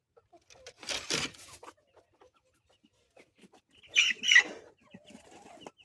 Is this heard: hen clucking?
yes